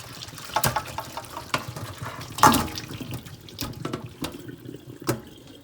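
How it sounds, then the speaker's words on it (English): Water from a pot of boiled Irish potatoes is poured off into a strainer, a steady splashing gush with a louder surge midway, close by and with no talking. "I'm gonna be straining the water off. I'm gonna throw it into the strainer."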